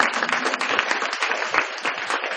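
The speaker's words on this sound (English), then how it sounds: "big round of applause for her" Audience applause at an evening teen mental health symposium, a dense steady clapping from a crowd lasting the whole stretch with no voices over it.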